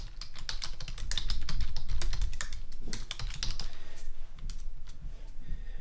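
Rapid clicking of keys on a computer keyboard as form fields are filled in, close and steady with irregular bursts of keystrokes and short pauses.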